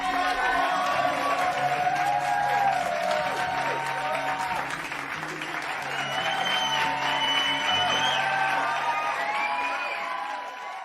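Audience at a live theater show breaking into applause with cheers and whoops, a sustained, full crowd sound that swells and then eases slightly toward the end.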